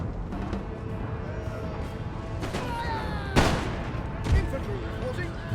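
Musket line volleys in Empire: Total War, with two sharp, loud cracks standing out over a dense, continuous battle din of distant firing and rumble, while someone talks throughout.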